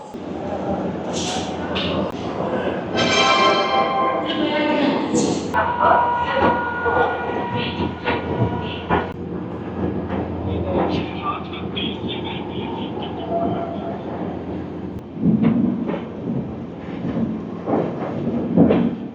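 Rajdhani Express pulling out of Kanpur Central on the non-stop run toward New Delhi, a loud continuous rumble of carriages with squealing, hissing and clanking, bits of speech faintly mixed in.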